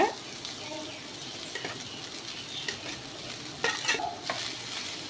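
Cooked rice being stirred into sesame oil in a pan, soft continuous sizzling with scattered scraping and clinking of a utensil against the metal, close by.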